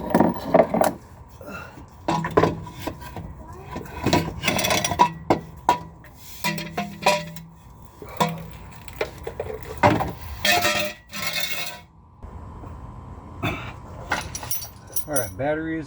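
A 2001 Mustang GT's battery is disconnected in a driveway during a transmission swap, with close, irregular metallic clinks, tool rattles and jangling bursts separated by short pauses, and someone talking between some of them.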